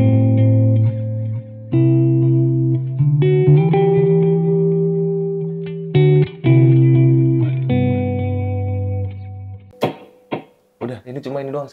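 Sustained electric guitar chords and single notes played through delay and reverb pedals on a pedalboard, ringing with echoing tails, loud and close, with a few plucked notes trailing off near the end.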